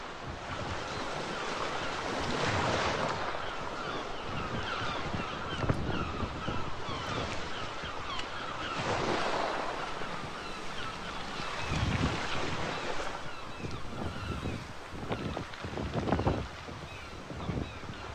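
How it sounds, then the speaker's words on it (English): Waves wash onto a secluded beach near Cape Town while wind buffets the microphone in steady, swelling gusts, with surf surging and receding continuously and no one talking. "This is the unnamed secret beach."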